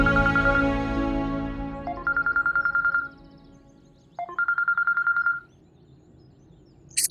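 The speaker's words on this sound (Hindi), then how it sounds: "मुस्कान का फोन आ रहा है।" A phone ringtone plays in two bursts of rapid, repeated electronic tones, with a brief pause between them, heard clearly after some fading background sound.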